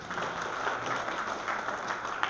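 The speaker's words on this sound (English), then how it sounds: "why don't you join me in giving yourselves a round of applause" A crowd applauds at a memorial march for missing and murdered women in Edmonton, a steady wash of many hands clapping at once, moderately loud and unbroken, with no voices standing out.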